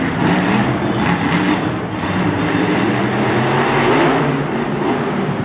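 Damon Bradshaw's Monster Energy monster truck roars through a freestyle run, a loud continuous rumbling engine and crowd-arena wash with rough surging texture throughout, no distinct speech.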